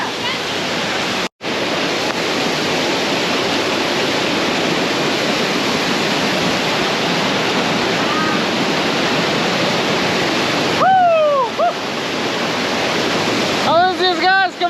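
Waterfall at Kapatipola, Nuwara Eliya, roaring as a dense, constant wash of falling water close by, with a few faint chirps cutting through near the end.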